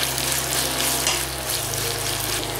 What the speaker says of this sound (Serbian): I sada na ovoj istoj masnoći ispržit ćemo luk dok ne omekša.